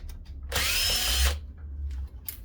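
A power drill backs screws out of a paper shredder's casing during a teardown, one sustained whirring burst of about a second with a short faint follow-up, close and alone.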